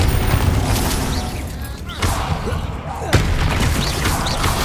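A Bombarda explosion spell in Hogwarts Legacy lands as a loud boom amid a clatter of crashing impacts and game effects, with a second heavy hit shortly after. A voice talks over part of it.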